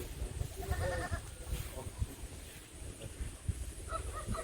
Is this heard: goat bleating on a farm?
yes